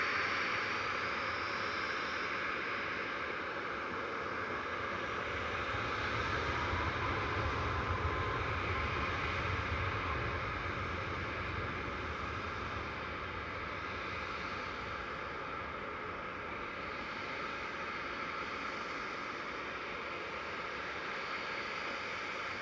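A Lufthansa Airbus A340-300 takes off from Manchester Airport, a sustained four-engine jet roar heard from afar, swelling slightly midway and staying faint and steady to the end.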